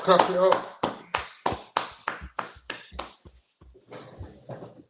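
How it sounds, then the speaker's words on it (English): A small group claps in a quick run of about eleven sharp, evenly spaced claps that slow and fade, followed by softer scattered claps; a voice can be heard at the start. "Clap it up."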